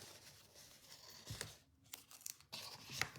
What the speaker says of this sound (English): we are actually going to add the tear and tape right along here